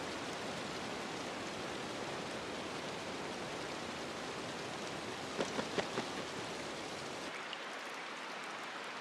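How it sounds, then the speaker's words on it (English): Heavy rain pours steadily in a tropical rainforest, a dense even hiss close by, with a few brief sharper drips late on before the downpour cuts off abruptly near the end. "But it seems that the rain doesn't worry anyone here much"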